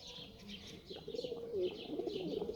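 A pigeon in a loft softly cooing in repeated low throaty phrases, growing fuller toward the end, with faint chirps and light fluttering nearby.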